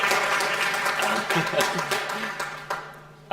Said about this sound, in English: give them a little applause